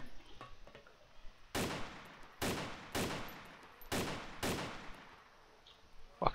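Gunfire in the DayZ mod for ArmA 2: five loud, sharp shots spaced about half a second to a second apart, each ringing out briefly, after a quieter stretch with faint voices.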